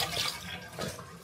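Water gushes and splashes out of a drain tap on a 1942 Jeep Willys in a steady, close stream that surges briefly near the end.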